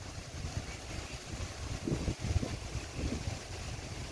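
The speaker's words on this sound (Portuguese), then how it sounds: "Muito vento aqui." Strong wind blows over the Amazon river among trees, a continuous rushing roar with gusty swells and buffeting against the microphone, boat-like rumble underneath and no voices.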